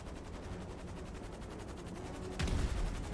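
Rapid gunfire from a GTA 5 alien invasion battle in Los Santos, a dense rattling stream of shots throughout, with a heavier burst near the end.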